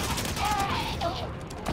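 Rapid gunfire in Halo 5: Guardians, a brief dense burst of overlapping shots in a busy game soundscape.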